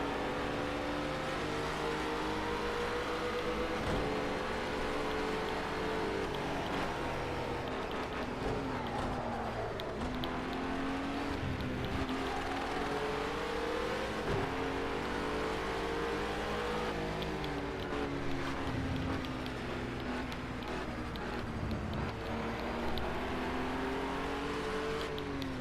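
An Acura NSX engine in a racing video game drones steadily throughout, its tone rising and falling with acceleration and shifts over a long, unbroken stretch, loud and close with no pauses.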